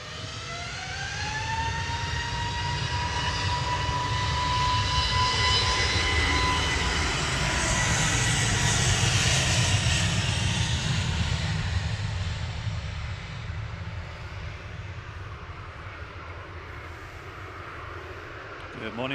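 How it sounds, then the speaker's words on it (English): A retro-livery Aer Lingus Airbus A320 from Dublin passes close at Manchester Airport, a rising turbine whine over a heavy roar that peaks midway and then slowly fades. "the next one is the Retro Aer Lingus coming from Dublin A320 EIDVM"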